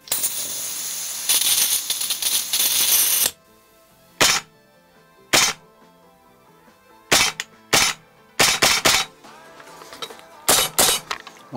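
A Tokyo Marui SAIGA12K gas blowback airsoft shotgun firing about a dozen sharp, loud cracks in uneven bursts, close up, following a few seconds of hissing gas at the start.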